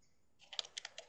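A command is typed on a computer keyboard: after a short quiet moment, about eight quick, crisp key clicks follow at an uneven pace, close and soft.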